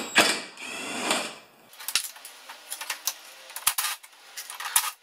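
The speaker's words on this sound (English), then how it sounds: "I'm going to take some screws off of this bad boy." Screws being removed from a Husqvarna two-stroke snow thrower carburetor, with close metallic clicks, rattles and small clinks of parts, preceded by a brief louder rustling handling noise.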